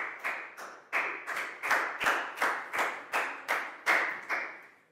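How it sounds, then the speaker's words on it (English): Primary school students in a classroom clap in a series of about ten sharp, evenly spaced bursts, close and fairly loud, with no talking. "High five and a big round of applause for Prow, please, guys."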